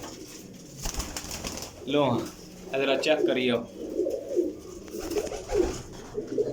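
Teddy breed pigeons at a breeder's loft coo softly in the background while someone talks over them throughout.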